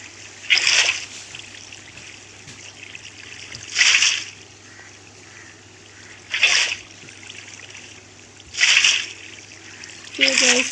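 Water poured from a bucket in Minecraft, in a survival world with an iron farm under construction, splashes in short bursts about every two and a half seconds, each fairly loud and close over a faint steady hum.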